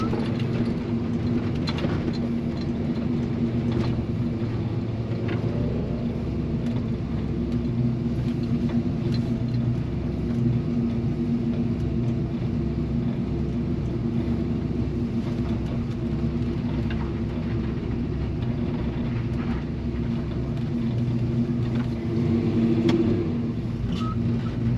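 A Chevy C-10 truck engine runs steadily from inside the cab while driving, a constant low rumble with road noise. The engine may be flooding at higher throttle, and the drone holds unbroken with only slight swells throughout.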